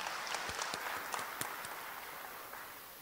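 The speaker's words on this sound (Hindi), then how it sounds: "माननीय मुख्यमंत्री जी का धन्यवाद स्वरूप जोरदार तालियों से अभिनंदन।" An audience at a Chief Minister's loan distribution event for women's self-help groups claps together, giving a steady, fairly faint wash of applause with a few sharper individual claps inside it.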